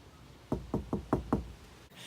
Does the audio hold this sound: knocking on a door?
yes